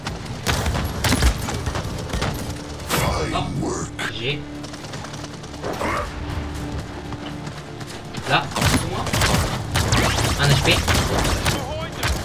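Rapid bursts of gunfire and thudding impacts in the Paladins video game, recurring throughout under excited talk from a player.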